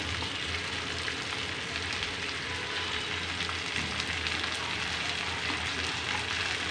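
Peas and finely chopped capsicum sizzling in a pan for green fried rice, a steady, dense frying hiss that stays constant throughout with no voices.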